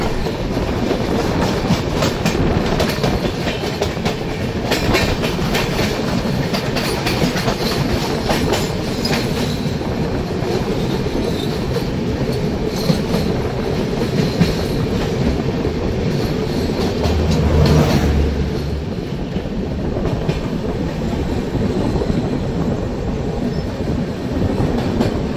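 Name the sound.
Saraighat Express train running over Farakka Barrage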